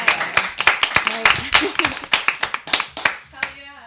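A small audience at a comedy talk show claps, the sharp irregular handclaps coming close and distinct while voices react and talk over them.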